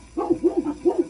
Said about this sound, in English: Now my dogs are barking.